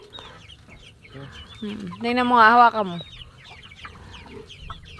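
A rooster on a farm clucks in a short burst of harmonic calls in the middle of the clip, close and fairly loud, while people talk quietly before and after it.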